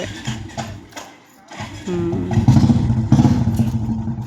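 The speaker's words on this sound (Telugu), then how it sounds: "ఇక్కడ శబ్దం వచ్చింది, బండి శబ్దం" A motorbike engine rumbles and revs nearby for a few seconds, loud and steady with some clatter, after a brief quieter dip.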